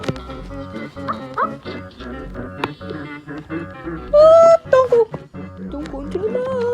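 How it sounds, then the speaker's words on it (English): The puppy bee dog in the video game Bee Swarm Simulator gives short yips, barks and whimpers in quick bursts, with one longer whine, under and between excited talking. "Just a big ball with my dog, my puppy bee now."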